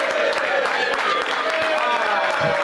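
Dense crowd applause, steady and loud for a few seconds, with voices mixed into the clapping.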